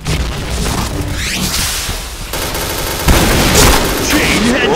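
Grenade blast in the shooter game Point Blank, sharp booming detonations with gunfire bursts around them, one heavy hit near the end, loud and close.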